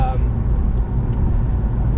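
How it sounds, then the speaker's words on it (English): Steady low road noise rumbling inside a moving supercharged Jaguar XF, a continuous even drone with no breaks. "road noise is pretty decent in the car"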